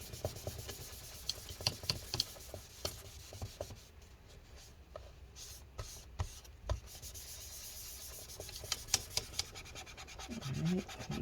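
Adhesive residue being wiped and scraped from the battery area of a 2012 15-inch MacBook Pro A1398, heard as soft, close rubbing and scratching strokes with occasional sharper ticks, steady and fairly quiet throughout.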